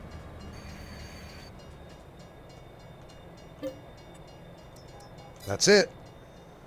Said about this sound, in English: let's send this train on its way, shall we?